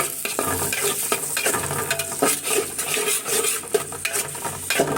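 Steamed, drained cauliflower fries in a pan of leftover hilsa fish frying oil, with a loud, continuous sizzle and crackle broken by the scrape and clatter of stirring.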